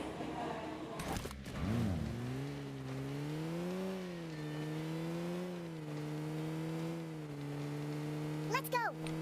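Car engine droning in a battle royale video game, a steady hum that rises and dips as the vehicle drives, with a brief rev near the start and another at the end.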